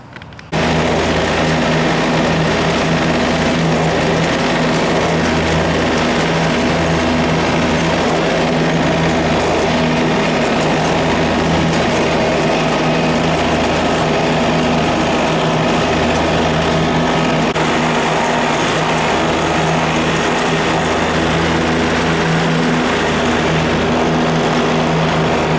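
A lawn mower engine drones steadily and loudly while mowing, holding a constant pitch with a faint rhythmic pulsing throughout and no voices.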